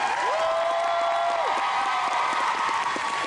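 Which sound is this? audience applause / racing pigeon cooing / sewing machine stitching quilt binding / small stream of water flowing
audience applause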